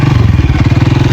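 A motorcycle engine running up close on a rough dirt track, a loud steady low-pitched chugging throb with fast regular pulses, no voices over it.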